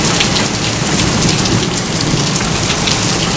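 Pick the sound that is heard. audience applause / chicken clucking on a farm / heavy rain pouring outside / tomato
heavy rain pouring outside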